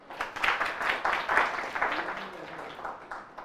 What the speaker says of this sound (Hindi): मुकुल के लिए आप तालियां बजा देंगे बेटा जोरदार।